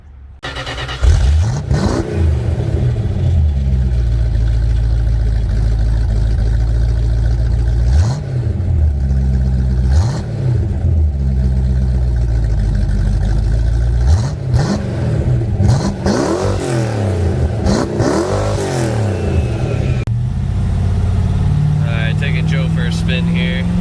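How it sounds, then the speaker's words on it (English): A 1975 Dodge Dart Swinger engine revs up in several bursts, rising and falling sharply over a rough idle, with voices talking in between. "Want to hear the shitbox do a couple revs?"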